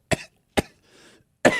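A person hacks out three sharp, separate coughs with a faint rasp between them, imitating a cat coughing up a hairball; the coughs are close, loud and heard alone.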